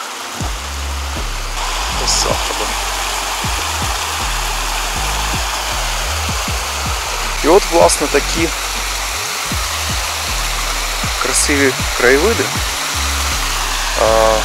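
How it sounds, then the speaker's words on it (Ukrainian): The Bahrivets mountain stream, which flows into the Chepeliv near the Bahrovetskyi waterfall, rushes in a steady, loud hiss of flowing water while someone talks over it throughout. "Це, власне, вже струмок Багрівець. Так, тече і впадає в Чепелів."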